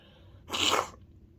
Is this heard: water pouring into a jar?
no